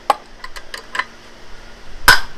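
Motorcycle gearbox gears give several light metallic clicks as the crank is turned by hand during engine assembly, ending in one sharper clack, quiet and close with no talking.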